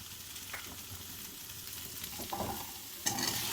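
Okra sizzles in a hot pan as it is stir-fried, a steady soft frying hiss with occasional louder scraping stirs near the end.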